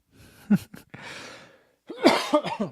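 A person coughs a few times up close, with a long breathy exhale between the coughs.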